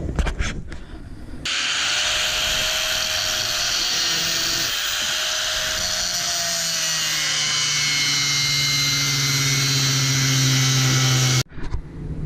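A loud, steady high-pitched grinding whine from a power tool cutting a metal E46 brake part runs almost nonstop, its pitch drifting slightly before cutting off abruptly at the end.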